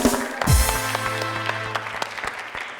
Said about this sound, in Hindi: तालियां हसन भाई के लिए